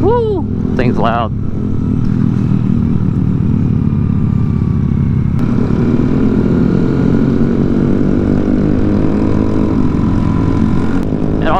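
A loud, constant engine drone comes from a lowered, stretched Honda Monkey motorcycle cruising the freeway at night, mixed with heavy wind rush, and a short excited shout early on.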